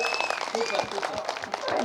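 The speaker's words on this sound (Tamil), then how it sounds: "எனக்காக ஒரு தடவை எல்லாருமா சேர்ந்து கை தட்டுங்க" An audience at a Tamil stage show claps together in a dense, steady patter of applause, with a voice speaking over the clapping.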